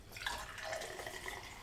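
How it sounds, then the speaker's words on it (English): Canned vending-machine soup from Japan pours into a clear glass, a soft, faint trickling and gurgling liquid stream lasting under two seconds without talk. "We're going to pour these into clear glasses, mostly so you can see the soup."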